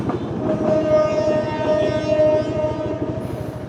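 An express passenger train in Bogura, Bangladesh, rumbles past close by, wheels clattering in a fast, even rhythm, while a long horn tone holds over the passing cars.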